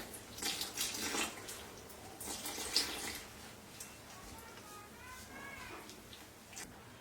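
Water pours steadily into a bowl of flour while the batter is stirred for soft pancakes, a soft running splash with light scraping throughout, moderately faint, with no talking.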